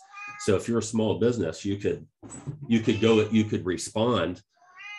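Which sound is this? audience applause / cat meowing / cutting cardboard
cat meowing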